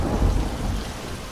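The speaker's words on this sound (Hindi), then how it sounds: "अचानक से आधी रात को तेज गड़गड़ाहट के साथ बारिश होने लगती है।" Thunder rumbles under steady heavy rain as a storm breaks over a village at midnight, a continuous loud downpour with deep low rolling booms throughout.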